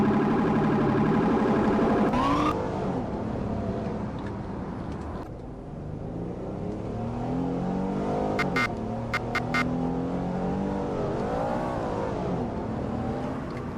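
A car engine in a driving video game drones and revs in shifting pitch, rising and falling over several seconds, with short clicking sounds near the end.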